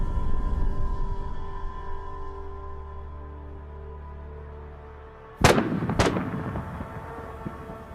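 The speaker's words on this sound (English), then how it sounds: "one of the armored vehicle's ammunition detonates, causing a massive explosion." Ammunition aboard a Russian armored vehicle in a destroyed column in Ukraine detonates with a massive explosion: two sharp, loud blasts about half a second apart, then rumbling aftermath, over a low steady drone.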